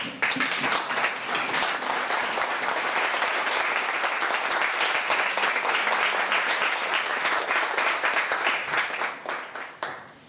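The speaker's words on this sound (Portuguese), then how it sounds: "Vamos aplaudir o Nick de pé, vamos" A standing audience at a talk applauding Nick, sustained dense clapping that holds steady for several seconds before tapering off at the end.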